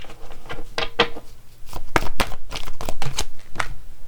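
Tarot cards handled and drawn during a reading, heard as a run of crisp, close papery flicks and snaps in irregular bursts with short pauses between them.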